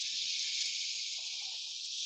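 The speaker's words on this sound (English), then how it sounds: "Hear that sizzle?" Food sizzles in a pan after dried onion and a splash of red wine vinegar go in, giving a steady, even hiss at moderate level with faint background sounds and no talking.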